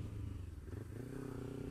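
A Kawasaki Ninja motorcycle engine hums low and steady at speed, with a faint rumble under a broad wash of wind and road noise.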